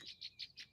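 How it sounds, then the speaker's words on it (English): Birds chirp in a quick, regular series of about five bright tweets, faint and somewhat distant, with no voices over them. "Excuse the birds, you guys."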